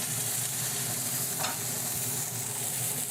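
Steady loud sizzling of food frying in a pan on a stove, a continuous hiss close to the mic with a brief stir partway through, no voices.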